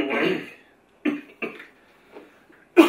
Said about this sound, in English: We're all coughing.